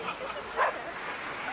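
A big dog at a dog show gives one quick bark over a faint background murmur, a brief, mid-pitched yelp in an otherwise quiet moment.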